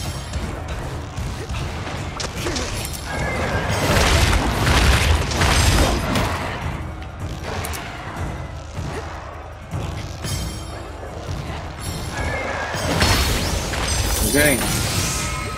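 Cannon blasts and crashing impacts in the video game Monster Hunter Rise, repeated booms and smashes over busy game noise, with players talking throughout.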